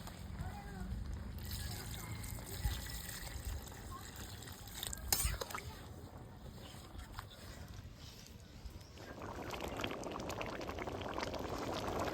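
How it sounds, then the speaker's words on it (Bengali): Water is poured into a pot of mutton ghugni with potatoes, giving a continuous splashing, bubbling pour that swells louder toward the end, with a clatter partway through. "এবার দিয়ে দিব হচ্ছে জল"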